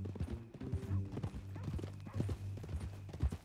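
Horse hooves clip-clop in a steady, fairly close rhythm on a ranch. A low hum runs underneath, and a faint murmur hints at someone nearby.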